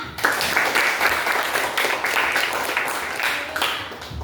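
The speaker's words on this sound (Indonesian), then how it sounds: "bagus tepuk tangannya" Children in a classroom clap together, a lively broad patter of many small hands with rhythmic surges, fairly loud and close, continuing without pause before tapering off.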